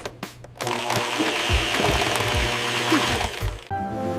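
A kitchen blender runs steadily at close range for most of the clip, a loud continuous motor whir that starts after a few brief knocks and cuts off abruptly near the end.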